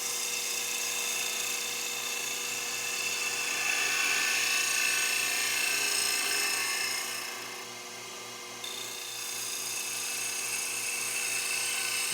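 A wood lathe spins a spindle while a gouge cuts coves, the bevel riding the surface as the wrist rolls around the curve; there is a steady high whine with a hissing cut, and the sound eases briefly before returning at full strength.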